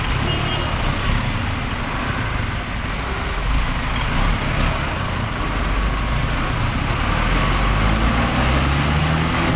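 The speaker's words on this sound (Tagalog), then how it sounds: "Traffic na talaga dito sa lugar namin" Steady road traffic noise in a flood-prone neighborhood where drainage works are underway, a continuous broadband rumble of passing cars and trucks with no voices, holding a constant level throughout.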